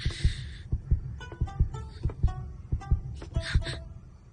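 A heartbeat sound effect pulses in a steady, regular rhythm of deep, soft thumps, about a dozen beats in a row, close and prominent with a faint hum underneath.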